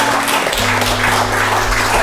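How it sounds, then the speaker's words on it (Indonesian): A short burst of audience applause at an indoor KPU Maluku outreach event on the 2024 regional elections. Dense, steady clapping fills the moment, with a low electrical hum beneath. "Tepuk tangan dulu dong."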